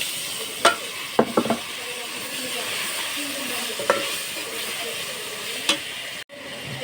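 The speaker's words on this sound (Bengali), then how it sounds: "এর জন্য কড়াইতে তেল আর পেঁয়াজ দিয়েছি। আমি এখানে আদা, রসুন, জিরে বাটা দিয়ে দিচ্ছি" Ginger, garlic and cumin paste frying with onion in oil in a kadai for rohu fish curry, a steady close sizzle broken by a few sharp spatula scrapes and clinks.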